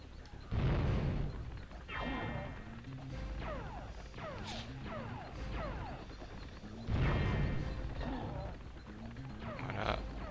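In Spyro: Year of the Dragon, an enemy fires a string of booming shots with crunchy impacts, mixed in with game effects and music.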